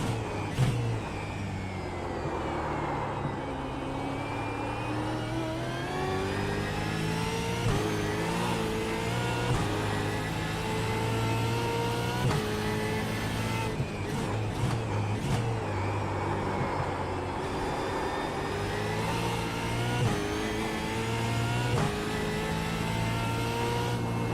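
Racing cars, a white and orange car and a black car, accelerate hard on a circuit: loud engine whines rise and fall with gear shifts and overlapping passes, continuous throughout with no talking.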